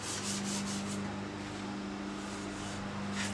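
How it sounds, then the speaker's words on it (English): Rhythmic back-and-forth strokes of sandpaper along the grain of a urethane wood finish, close and steady, over a low machine hum. "Sand with the grain."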